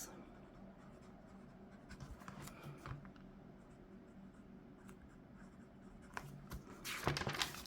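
Pen writing in an A6 paper planner, soft scratchy strokes in short bursts, close and quiet, ending with a louder rustle of paper.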